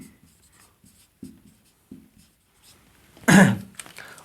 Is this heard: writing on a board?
yes